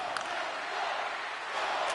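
Hockey arena crowd roaring steadily in NHL 25, a broad sustained wash of cheering throughout with brief louder swells near the start and end.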